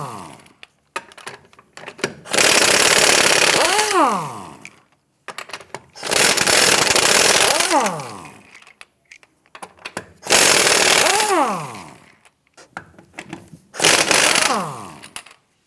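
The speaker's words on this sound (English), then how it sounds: "let's get it loosened and remove the lug nuts." An impact wrench with a 21mm socket loosens the lug nuts on a 2008-2013 Nissan Rogue wheel, giving four loud, close bursts of hammering whir, each ending in a falling spin-down, with clinks between them.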